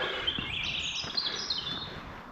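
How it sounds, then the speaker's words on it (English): Birds sing at dawn with high, thin chirps and twittering layered together, fairly faint and distant over a quiet, windless outdoor hush. "You can hear the birds just waking up."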